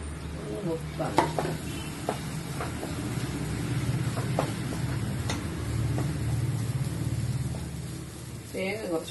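A spice mixture is stirred and roasted in a pan for jackfruit thoran, giving a steady close sizzle with repeated scraping and clinking strokes of a utensil and a brief voice near the end.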